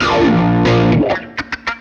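Electric guitar run through a filter effect on an Axe FX III preset, a sustained distorted chord with a sweeping filtered tone, then three short choppy stabs near the end.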